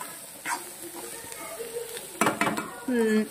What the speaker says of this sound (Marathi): छान परतवल्या जात आहे कांदा, टोमॅटो वगैरे.